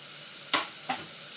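Two brief scraping stirs in a pan as ginger, curry leaves, green chilli and tomato go in with browned onion for a Kerala chicken curry, with a soft sizzle underneath.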